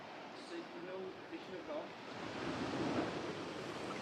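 Sea water lapping at a clear-water beach on Scotland's west coast, a steady soft wash of small waves that swells slightly toward the end, with occasional faint voices nearby.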